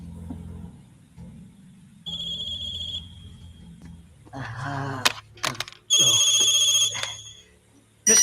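A phone ringing during a film's classroom scene, two separate bursts of electronic ringtone with a pause between, close and loud, with rustling and movement in the room.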